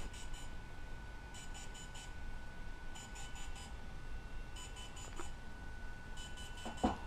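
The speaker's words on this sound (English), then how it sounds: "It'll power on and it'll start flash in and making all kinds of beeping noises" A DJI Phantom 3 Professional drone beeps during a firmware update: quiet, repeated clusters of short high electronic beeps at regular intervals over a steady background hiss, with a single brief click near the end.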